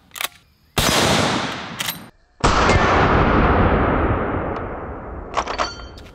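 A T-REX rifle chambered in .45-70 fires Federal Fusion loads: two heavy, booming shots about a second and a half apart, each followed by a long rolling echo, with a few faint clinks after.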